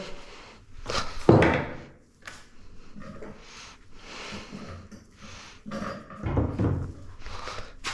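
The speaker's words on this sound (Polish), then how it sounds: "Wezmę młotek gumowy." A rubber mallet knocks against an RC XC 32 bicycle shock absorber in a poor, neglected state, giving a couple of dull, heavy thuds spaced several seconds apart amid handling noises.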